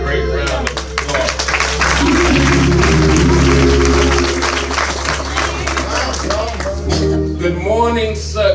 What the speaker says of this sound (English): Give this great choir another great round of applause.